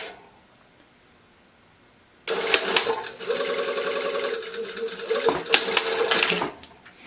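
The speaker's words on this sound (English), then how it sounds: "So we're going to sew that at 5/8 of an inch." A sewing machine stitches a bodice seam at a 5/8-inch allowance, starting abruptly after a quiet moment and running in a steady, close, loud mechanical whir. It pauses briefly near the end before finishing with a short final burst.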